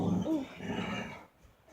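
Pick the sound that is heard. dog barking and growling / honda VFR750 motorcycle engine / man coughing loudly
dog barking and growling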